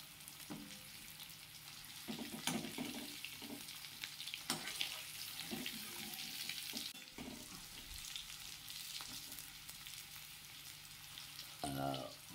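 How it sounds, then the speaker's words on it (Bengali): Boiled potatoes frying in oil over a high flame, a continuous close sizzle with scattered stirring clatters and a brief metallic scrape near the end, no talking. "হাই ফ্লেমেই এটা ভাজতে হবে"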